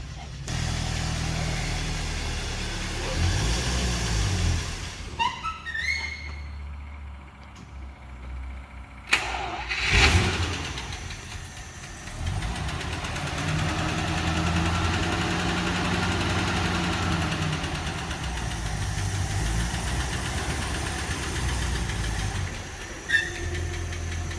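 A Packard car engine cranks, catches and settles into a rough, rumbling idle with knocking vibration, heard close for most of the stretch, with a few clunks around the start.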